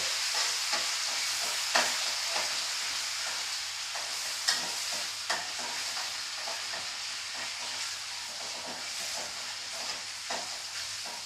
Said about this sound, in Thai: เจียวให้กรอบกรอบเลย